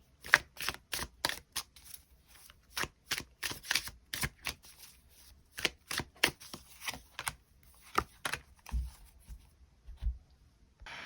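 Tarot cards are shuffled and drawn by hand, a long run of crisp papery riffles and flicks in quick irregular bursts, close and fairly quiet with no talk.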